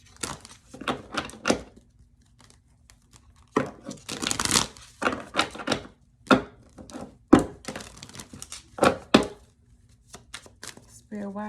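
Tarot cards being shuffled by hand, heard as a series of short, close papery riffles and slaps in irregular bursts separated by brief pauses.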